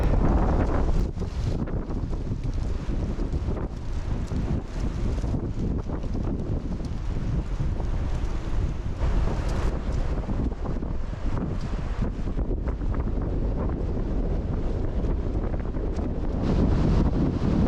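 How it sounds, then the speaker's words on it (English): Strong wind buffets the microphone on an exposed hilltop walk at Sponds Hill above Higher Poynton in East Cheshire, a steady loud roar with gusting rumble and no speech. "Did I mention it was windy?"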